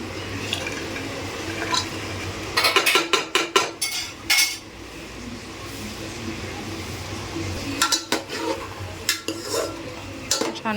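Soaked pulses being stirred into vegetables in a metal pot, with bursts of clattering spoon-on-pot scraping and knocks in two clusters, close and fairly loud over a low background hum.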